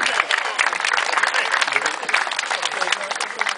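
An audience at a pilgrimage gathering at a Polish community house claps, a dense and steady round of applause from many hands that lasts the whole stretch.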